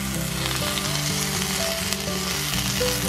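A beef birria taco frying on a hot surface as it is flipped and folded, a dense continuous sizzle close by, with steady background music and no talking.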